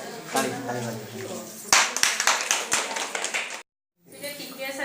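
A group at an Anganwadi training session claps hands together, a burst of sharp, uneven claps following speech, then a brief silence and more talking afterward.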